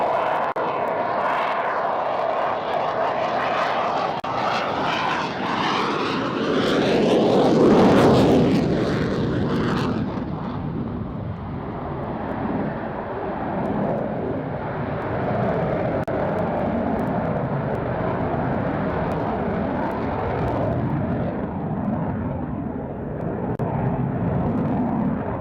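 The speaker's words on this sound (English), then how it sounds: "when he actually powers out of it, it's got no problem at all overcoming the weight of the aircraft to fly away" A fighter jet flies a velocity-vectoring display at the RAF Waddington Airshow in 2006, its engine a loud, continuous roar that swells and shifts pitch as it passes near, then powers away with a sustained rumble.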